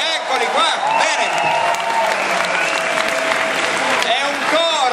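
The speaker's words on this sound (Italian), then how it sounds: "Un applauso per i torinesi, eccoli qua" Audience applause for a youth choir from Turin at a sacred music festival, a steady dense wash of clapping sustained throughout with some voices mixed in.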